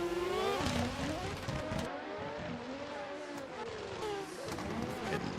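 A drift car at a CNDS drifting competition round in Englishtown: a high, wavering engine note that rises and falls through revs, with tire noise underneath, heard at a distance.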